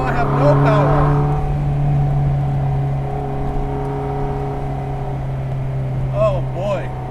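A Vanderhall Laguna's engine hums steadily at full throttle without building much speed, a close sustained drone with a brief chirp or squeal near the end, while someone talks over it.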